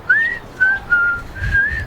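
Someone whistles close to a microphone: four short, clear tones, the first gliding upward and the rest steadier, alone with no talk.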